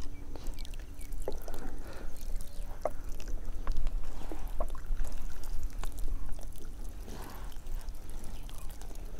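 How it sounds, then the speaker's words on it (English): Water poured slowly onto the growing medium in a planting pot, a steady close trickle and splash running continuously for several seconds with faint clicks and knocks and no talk. "So if it is not wet, slowly we may have to put water."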